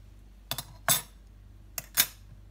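Noodle soup ingredients being mixed in a bowl, heard as two pairs of light metallic clinks of a utensil against the bowl, close and quiet against a faint hum, with no talking.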